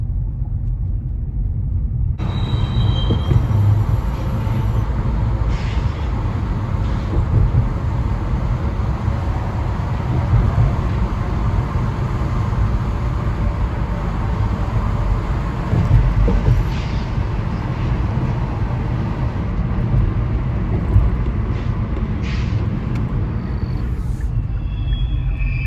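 Low, continuous rumbling from trains in a train yard fills the scene, a steady mechanical drone with occasional clanks and scrapes, heard from inside with no one talking.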